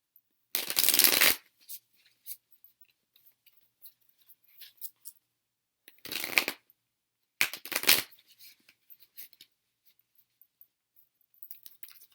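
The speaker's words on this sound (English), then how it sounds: "I need to shuffle this a couple more times" Tarot cards riffle-shuffled in three quick bursts, close and crisp, with quiet handling sounds in between.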